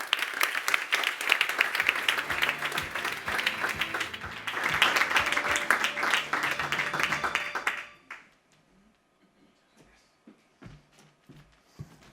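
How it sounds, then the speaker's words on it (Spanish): Audience applause at a book presentation in Madrid, loud sustained clapping from a crowd for about eight seconds, then cutting off to near silence with a few faint taps and shuffles. "Manuel Monterrubio, CEO de Intelivoz, para quien pido un fuerte aplauso."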